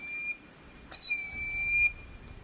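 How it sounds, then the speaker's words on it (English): An Ojibwe eagle whistle sounds in shrill, steady piping tones, a short blast followed by a longer sustained one, clear and alone against a quiet background. "The story of the eagle whistle is the story of the eagle itself."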